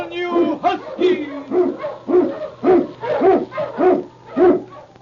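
Huskies bark in an old-time radio sound effect, a close run of about eight rhythmic barks and yelps at an even pace, each with a slight howling tone.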